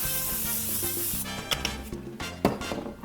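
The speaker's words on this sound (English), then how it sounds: "I'm just gonna spray it with some cooking oil" Cooking oil sprayed into a glass baking pan, a hissing spray burst at the start followed by a few light clinks and taps, heard against a tonal hum.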